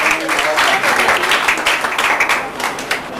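An audience at a youth center program in Lahore claps in a close, uneven burst of applause, with voices audible over the clapping.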